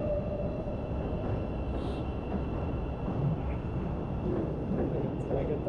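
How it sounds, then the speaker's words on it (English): A train pulls away on a Chicago street, a steady, low rumbling roar that fills the scene at moderate distance, mixed with general city background noise. "The train leaving."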